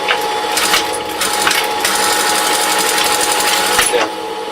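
A sewing machine runs a stitch on a small puppet, a close, loud rapid mechanical whirring and clattering with brief pauses and restarts, alone without talk.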